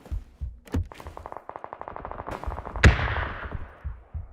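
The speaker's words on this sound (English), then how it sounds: "They have the over-under shotgun." Gunfire in PUBG with an over-under shotgun nearby, scattered sharp reports and a rattling burst, then one heavy close blast at the end with an echoing tail, no talking.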